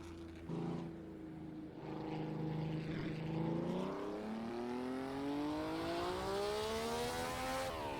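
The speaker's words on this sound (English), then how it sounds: "Oh, this thing revs way higher than I thought it revved." A car engine in the Assetto Corsa racing game revs loudly, pitch climbing steadily higher over several seconds in a long sustained whine, with no talk over it.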